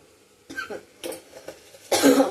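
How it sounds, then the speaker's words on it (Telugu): A person coughs several times in quick bursts while cooking, the last one loudest and harshest. "నాకు వంట చేసినప్పుడల్లా దగ్గు వస్తుంది"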